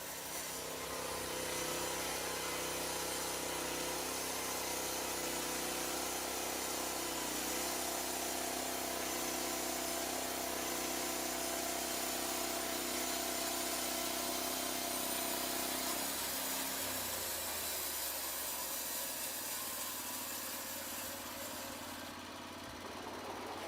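A Lumber Pro sawmill cuts through a log, a steady engine drone under a continuous whirring cut that holds for most of the run before the pitch drops and the load eases near the end, with no talk.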